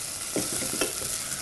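Onions fry in a saucepan on a gas stove, with a steady close sizzle and a few soft stirring scrapes. No one speaks.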